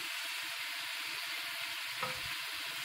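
Beef with curry powder browns in a pan, giving a soft, steady sizzle with a low clunk of stirring near the end, no voices.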